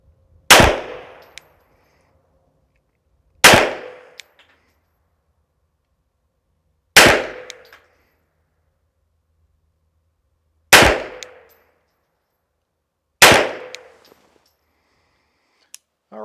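A Tisas 1911 Carry DS handgun fires five loud, crisp single shots at a target, spaced a few seconds apart, each with a short echo tail and near silence between.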